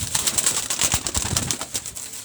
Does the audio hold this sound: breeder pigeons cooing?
yes